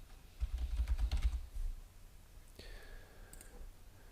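Quick bursts of keyboard typing on a computer, a short run of close clicks for about a second, then quieter background sounds.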